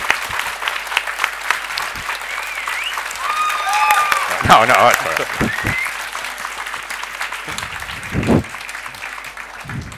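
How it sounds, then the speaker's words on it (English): A book fair crowd applauds Donald Duck comics artist Don Rosa, steady clapping across the clip while a few voices briefly speak over it. "so give him a big hand of applause"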